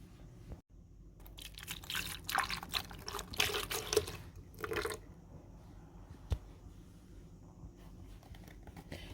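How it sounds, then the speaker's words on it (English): Coconut milk poured into a Vitamix blender for plantain oats porridge: a soft, splashy pour of liquid lasting a few seconds, fairly close, then fading to quiet room tone with one small knock. "I'm going to be adding the coconut milk to the mix now."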